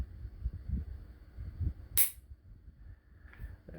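Army Armament R501 airsoft pistol fired one-handed at an outdoor range, one sharp close snap standing out over low background rumble.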